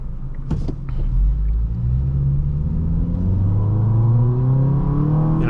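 A 2016 Honda Accord Sport with the 2.4-litre engine accelerates at full throttle, heard from inside the cabin as a steady low rumble with engine pitch climbing smoothly and continuously, loud and close, after a brief knock at the start.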